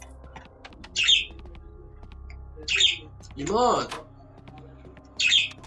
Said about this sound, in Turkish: Kuş ötüyor.